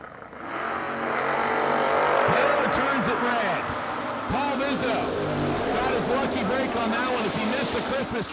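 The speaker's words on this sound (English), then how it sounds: "He'll get the head start from Paul Vizzo's 1966 Chevy 2 Nova" A 2002 Camaro and a 1966 Chevy II Nova launch side by side at a drag strip, engines roaring and revving at full throttle with a steady loud wall of sound and tire noise, announcer talk running underneath.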